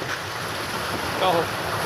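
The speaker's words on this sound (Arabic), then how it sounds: "موجه من الميه اهي اهو داخل مدينه كيرنس" A wave of water washes in within the city of Cairns, giving a short, fairly close surging wash that swells briefly near the middle, with a faint voice underneath.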